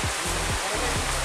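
Bee Fall waterfall in Pachmarhi pours in a steady, loud broadband roar with no break, close by, and no voices rise above the rushing water.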